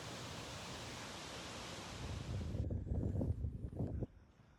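Gibbon Falls, an 84-foot waterfall in Yellowstone, gives a steady broadband roar of falling water, alone and unbroken, with a lower rumbling wash toward the end.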